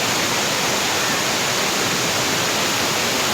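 Rainwater after heavy rain rushes through a stream channel toward the Banas River at Juna Deesa, a loud, steady broadband roar of flowing water with no pauses.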